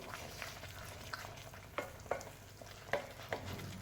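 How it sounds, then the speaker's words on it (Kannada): Paneer curry masala fries in a pan, a soft, steady sizzle broken by a few sharp scrapes and taps of a spoon being stirred through it, quiet and close with no voices. "ಇನ್ನೊಂದು ಸ್ವಲ್ಪ ಫ್ರೈ ಆಗಬೇಕಾಗುತ್ತೆ"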